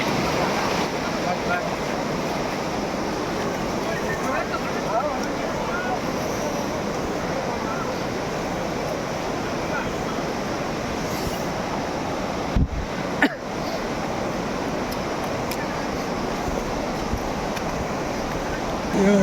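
Nipli Falls waterfall pours in a steady, loud broadband roar with wind buffeting the microphone, continuous throughout apart from a brief dropout near the middle.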